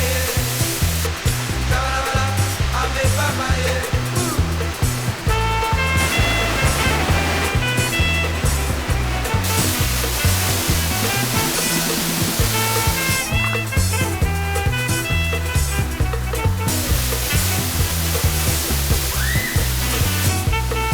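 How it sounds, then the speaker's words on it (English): Waterfall pouring into the freshwater Emerald Pool in Dominica, a loud, constant rushing roar of falling water, close and unbroken. "It's a freshwater pool with a waterfall"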